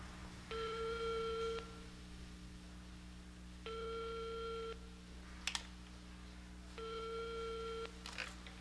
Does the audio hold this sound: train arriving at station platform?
no